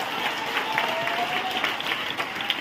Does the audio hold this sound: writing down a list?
no